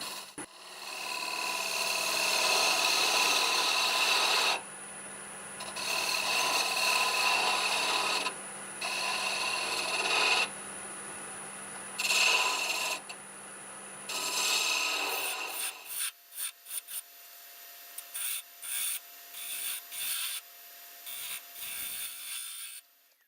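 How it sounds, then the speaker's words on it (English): A detail spindle gouge cuts a wooden coffee scoop spinning on a lathe, producing a steady close scraping rasp in several sustained passes separated by short pauses, followed by brief choppy cuts as the lathe hum lingers. "Got my little detail spindle gouge now."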